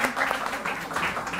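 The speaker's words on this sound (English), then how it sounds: "A round of applause." An audience at a live-streamed event claps in a brief burst of applause, fairly dense and steady over its short length.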